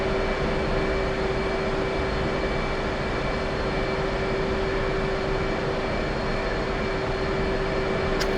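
A jet aircraft taxis and rolls for takeoff, its engine a steady loud drone with a constant whine throughout and no voices.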